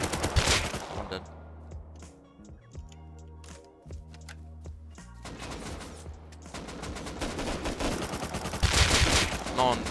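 Revolver gunfire in the Rust video game crackles in rapid bursts of sharp shots, with dense volleys at the start and end and a quieter stretch between them, while players talk over it.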